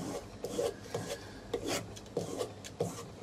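A knife blade is drawn along a leather honing strop glued to a wooden board, giving repeated rough rasping strokes in a steady back-and-forth rhythm, close and clear with no talking.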